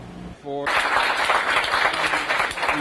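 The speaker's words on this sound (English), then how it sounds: "it begins off with a commemoration or a rousing cheer for the 85th anniversary of Paul Sweezy" Audience at a socialist scholars conference breaking into loud, sustained cheering and applause after a brief tonal note, a dense crowd roar that fills the room for several seconds.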